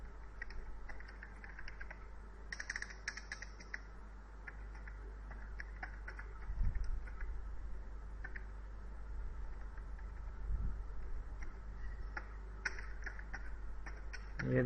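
Light keystrokes tap on a computer keyboard in quick, irregular bursts as an email address is typed, faint and close over a low electrical hum, with a couple of louder clicks.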